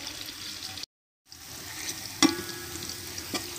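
Onions sizzling in ghee as they fry toward golden brown, a steady soft crackle broken by a brief silence and a couple of sharp stirring clicks.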